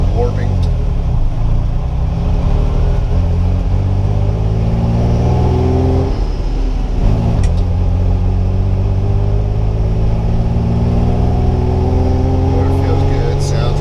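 A car engine idles in a close, heavy rumble for a long stretch, with several revs where the pitch climbs and falls back. A healthy motor with strong oil pressure.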